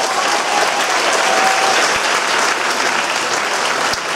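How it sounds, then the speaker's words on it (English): A school winter concert audience applauds its student performers with loud, dense clapping that holds steadily throughout, with no voices heard. "a round of applause for all of our performers tonight"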